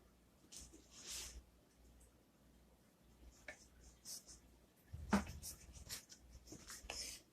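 A knife slices through rolled cinnamon roll dough, giving soft, faint scraping and pressing sounds in irregular bursts, with a louder cutting stroke near the end and quiet kitchen background between strokes.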